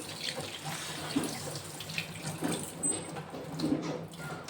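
Grated potato is rinsed under a running kitchen tap, the water splashing steadily into a sink with soft swishes of handling, fairly close and with no talking.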